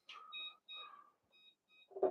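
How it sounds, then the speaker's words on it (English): A charging-needed warning from a radio sounds as a short series of faint electronic beeps, clean and isolated, ending with a brief rustle. "Oh, sorry about the beeping"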